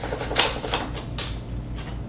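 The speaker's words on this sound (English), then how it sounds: "So, you're going to cut the top and the bottom off." A kitchen knife cuts the top and bottom off an onion on a cutting board, giving a few sharp, close chopping taps spread across a couple of seconds with no talk.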